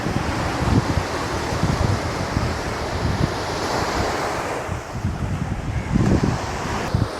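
Sea waves crash and roll onto Purakkad beach in Alappuzha, Kerala, in a loud, continuous surf. Wind buffets the microphone, and the rumbling swells rise and fall with no voices.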